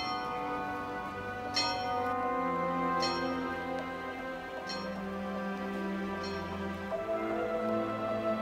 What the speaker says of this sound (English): It strikes the bell for 11 o'clock.